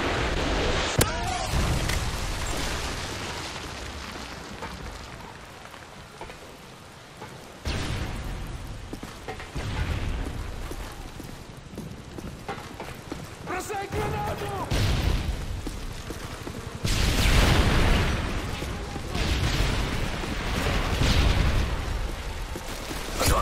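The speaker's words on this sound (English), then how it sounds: "Predator missile inbound." Predator missile strikes land in a Modern Warfare 3 team deathmatch, with heavy booming blasts and rumbling bursts that recur over loud continuous gunfire and battle noise, along with game voice callouts.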